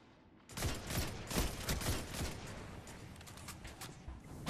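Gunfire in a competitive Crucible match of the video game Destiny 2, a sudden dense burst of rapid shots that keeps rattling loudly and continuously, with no talking.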